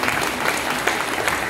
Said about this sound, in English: Give Elder Yochanan a round of applause there.